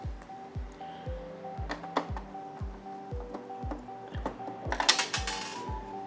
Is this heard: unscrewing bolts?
yes